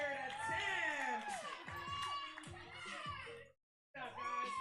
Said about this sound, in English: cheer this guy on